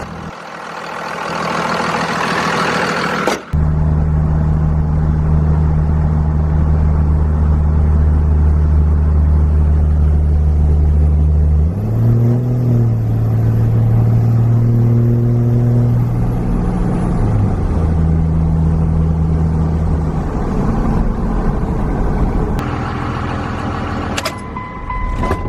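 A 24-valve Cummins diesel truck with a recently replaced radiator pulls away on a test drive, its steady low engine drone rising and shifting through gears as it runs close and loud for most of the stretch.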